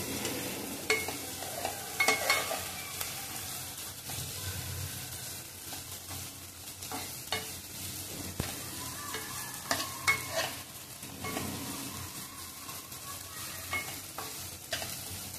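Fenugreek leaves stir-fry with softened onion in a pan, a continuous soft sizzle broken by repeated scraping and stirring strokes and spatula knocks at an irregular pace, close and quiet, with no talking.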